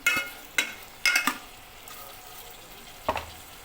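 Taro root added to cooked onions in a pan and stirred: a few sharp scraping stirs in quick bursts, then a pause and one more stir over a faint sizzle, close and clear, no speech.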